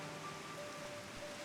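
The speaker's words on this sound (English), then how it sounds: "It's never not raining in this fucking game." Steady, soft hiss of falling rain in Final Fantasy XIV with a faint tonal hum underneath, continuous and even throughout.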